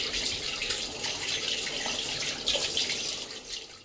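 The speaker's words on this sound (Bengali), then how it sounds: "এখানে মাছগুলো একটু ধুয়ে দিয়ে।" Tap water runs steadily into a kitchen sink while fish are washed, a continuous hiss and splash with small splashy bursts and no voices.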